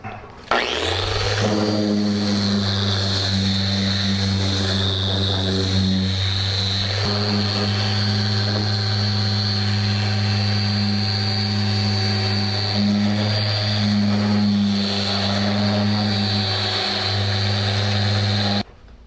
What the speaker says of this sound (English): You can take and put an 80 grit sandpaper to start on this and get this ready, and that's what we're going to do right now.